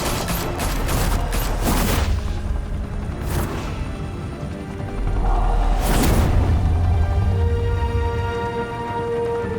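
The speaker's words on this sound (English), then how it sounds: "Open fire!" Gunfire erupts in a Batman video game shootout, with bursts of rapid shots, booms and whooshing action effects, loud and dense throughout.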